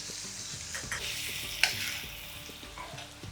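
Cumin and onions sizzle steadily in a hot pan while making Rajasthani mangodi sabzi, with utensils clinking and scraping as they are stirred.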